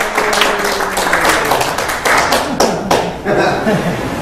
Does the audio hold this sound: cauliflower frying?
no